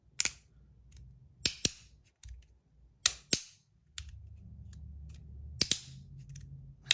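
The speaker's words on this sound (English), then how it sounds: "Such a good click." Crisp clicks from a 3D printed haptic EDC fidget slider, arriving in sharp single and double snaps spread over several seconds, close and loud against a low background rumble.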